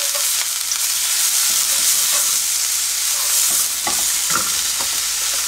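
Green onion and garlic frying in scallion oil for an eggplant stir-fry, a loud continuous sizzle close up with scraping stirring strokes toward the end, no talking.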